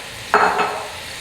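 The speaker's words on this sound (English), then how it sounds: "So now the ground turkey will take probably 15-20 minutes to cook." Ground turkey thigh frying in a pan gives one short, fairly loud scrape-and-sizzle burst as it is stirred, then settles into a soft, steady hiss.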